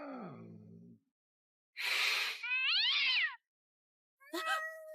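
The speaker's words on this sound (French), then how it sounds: "D'où vient ce chat noir dans la loge?" A black cat meows in a few separate calls: a low, drawn-out cry at the start, then after a pause a brighter, wavering meow, and a short final mew near the end, close and fairly loud with silence between.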